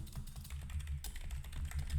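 Typing on a computer keyboard during a software demonstration, heard as a steady run of soft, close key clicks over a low background hum, with no talking.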